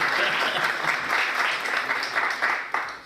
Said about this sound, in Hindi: जोरदार ताली बजा दें।